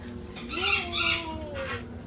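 A single drawn-out squawk from a baby macaw, raspy and fairly close, rising then sliding down over a quiet background.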